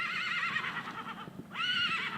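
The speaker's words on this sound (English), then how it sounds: "These pastures give horses needing a little help a place to heal." A horse whinnies loudly and close in a pasture where horses needing help recover, with a second rising neigh following a brief dip, and faint hoof clops underneath.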